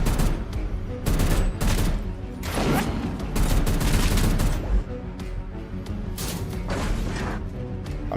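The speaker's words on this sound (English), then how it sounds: "And they're also releasing rockets now" Rockets firing in the action game Diablo 4, dense overlapping bursts and booms crashing in rapid succession for several seconds, loud and continuous with sharp impacts throughout.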